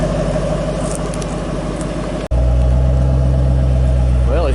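Car engine idling with a low, steady rumble through Flowmaster dual exhaust. There is a brief dropout midway, after which the deep drone continues louder and fuller.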